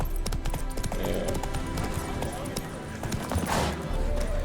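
Roach the horse's hooves clip-clop in a video game on a racing track, a steady rhythmic trot with occasional whinnies, heard beneath continuous game music and people talking.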